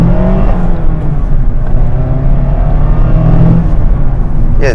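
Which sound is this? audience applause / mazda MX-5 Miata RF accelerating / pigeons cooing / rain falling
mazda MX-5 Miata RF accelerating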